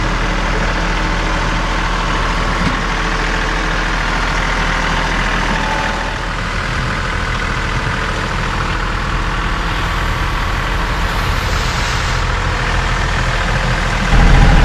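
A John Deere 2038R compact tractor idles steadily nearby in wet snow by a garage, a loud continuous low engine drone with no talking.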